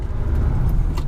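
A Ferrari 456GT 2+2 grand tourer on the move, its engine a steady low rumble with road noise from inside the cabin, continuous and fairly loud throughout.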